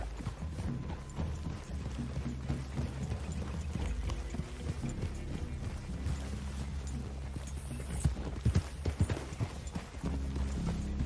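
Horse hooves clip-clop steadily in Red Dead Redemption 2, a rhythmic run of close, moderately quiet hoofbeats with faint tack and gear clatter mixed in.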